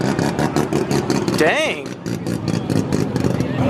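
A Toyota Supra race car roars at a drag strip, its engine revving in loud, rapid pulses with one rising whine midway, while a spectator's voice exclaims nearby.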